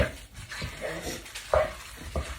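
Slumgullion being mixed by hand in a dish before it goes into a large Anchor Hocking 9x13 glass baking pan, heard as a few close, irregular scraping and clunking strokes with no one speaking.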